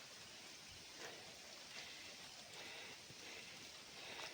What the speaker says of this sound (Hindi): बारिश पड़ी है नाले के पार, ये इतनी जोर की आवाज़ आ रही है